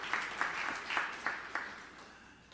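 Congregation applause fills a church during a sermon, a steady wash of clapping with several sharper swells roughly every half second, gradually fading toward the end.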